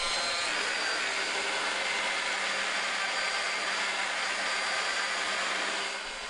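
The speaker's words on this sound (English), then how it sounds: "Spread the polish on the lens, set the machine to 1200 or 1500 RPMs," A rotary polishing machine at about 1200 to 1500 RPM buffs polish into a headlight lens, producing a loud, steady broadband whir with no pauses that eases off slightly at the very end.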